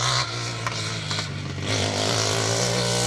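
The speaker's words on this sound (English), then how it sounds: "it sounds like we've got a bit of a missing exhaust situation going on here" A loud Ford Escort rally car engine with a missing exhaust revs with a raw, rasping, unmuffled tone, rising and holding as the car passes close by on a stage of the 2023 Manx Rally.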